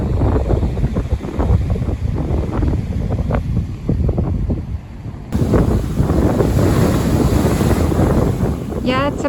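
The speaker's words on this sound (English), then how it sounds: "when the wind is blowing, it really makes the waves crash, and then you get all this beautiful white foam" Strong wind buffets the microphone on a cold fall beach in PEI after Hurricane Fiona while waves crash and surge, a loud, continuous roar with rising swells and no voices.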